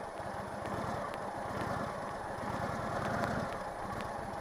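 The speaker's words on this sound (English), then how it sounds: "So I'll let you hear a rev a little bit." An Indian Chieftain motorcycle engine runs steadily with a low, throbbing rumble and a slight rise in revs near the end, fairly quiet and heard alone without speech.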